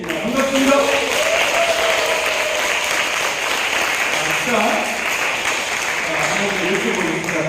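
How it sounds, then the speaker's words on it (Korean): A large seminar audience of health-education trainers in Seoul gives a big, sustained round of applause, dense and steady for the whole stretch, with faint voices mixed underneath. "제가 다시 한번 인사를 드릴 테니까 서울의 큰 박수가 어떤 건지 시범을 한번 보여주시면 고맙겠습니다."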